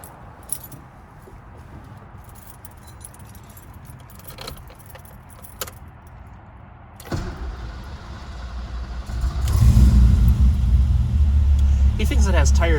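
Keys jangle before a 1987 BMW 325is engine cranks and starts, settling into a steady, close idle rumble that grows louder; a person talks over it.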